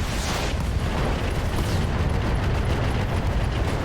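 A Jenner mech blows apart in the BattleTech game RogueTech, a loud, dense roaring explosion with rumbling debris that stays heavy and continuous throughout.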